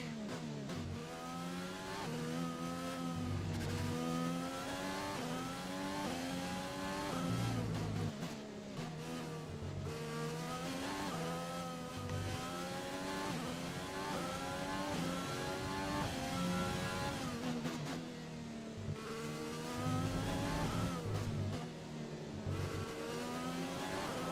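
An F1 2020 video game race car at the Russia circuit runs through a lap, its engine whining continuously with repeated revving rises and falls between gear shifts and braking. The engine is loud and steady throughout and heard alone.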